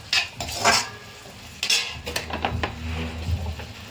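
A spoon scrapes and clinks against a pan while Manchurian is stirred and mixed, with quick metallic taps and scraping strokes close up and no voices.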